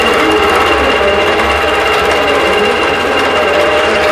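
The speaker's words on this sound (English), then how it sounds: "we'll have about 15 minutes of sewing" A sewing machine runs continuously while stitching a Bordered Diamond quilt, a loud, steady mechanical whir and hum with no pauses.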